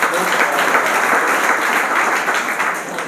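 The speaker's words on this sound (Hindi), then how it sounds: "ताली की गड़गड़ाहट खत्म हुई है।" Audience applause at a music and arts quiz event, a dense, even wash of clapping that holds steady and loud throughout.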